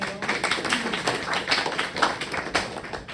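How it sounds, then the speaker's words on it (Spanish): Scattered clapping from students in a pathophysiology class, a moderate, uneven patter of hands filling the room at middling distance with no talk over it. "aplausos para el compañero."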